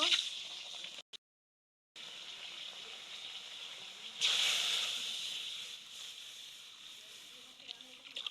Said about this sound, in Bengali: তার আগে একটু কড়াইতে জল দিয়ে দিব